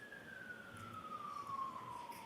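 An emergency vehicle siren wails steadily with a slowly falling pitch as it passes, set against a low rumble of traffic and room noise, moderately loud and with no talking.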